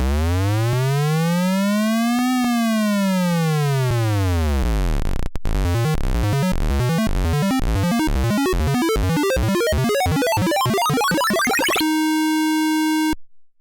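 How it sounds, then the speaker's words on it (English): DIY microcontroller synth producing raspy square wave tones: rising and falling buzzy sweeps, then a fast run of stepped, bleeping chirps, ending on a sustained harsh organ-like buzz, all synthetic with no voices. "Typically, DIY audio projects consist of raspy square wave tones"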